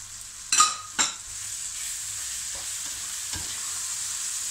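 Spices and vegetables stirred in a hot pan while frying for bulgur with tzatziki: two sharp scraping stirs early on, then a steady soft sizzle continuing alone with a faint later scrape.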